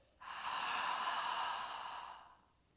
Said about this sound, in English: If you were sucking in through a vacuum and open the mouth, it would sound like this.